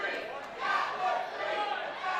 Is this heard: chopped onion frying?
no